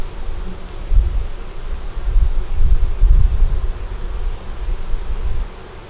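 Honey bees buzz steadily around an opened hive that had swarmed, a continuous low drone with faint rustling and no talking.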